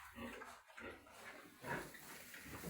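Piglets squeal and grunt close by in short overlapping bursts, with some shuffling noise around them.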